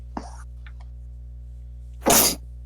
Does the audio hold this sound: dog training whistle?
no